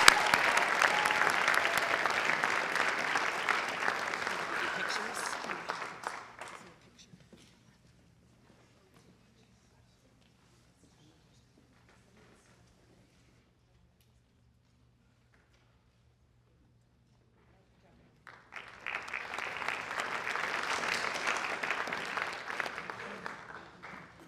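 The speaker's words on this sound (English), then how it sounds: "Give them a round of applause." Audience applause at a high school awards night honoring seniors, a loud burst of clapping that fades to near silence, then a second round of applause rises again.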